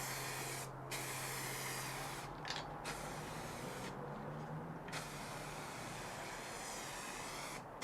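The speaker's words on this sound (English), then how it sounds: "The body is given 3 coats of nitrocellulose grey primer." Continuous hiss of a spray gun laying nitrocellulose grey primer onto a Telecaster-style guitar body, with brief pauses between passes and a steady compressor hum beneath; no voices.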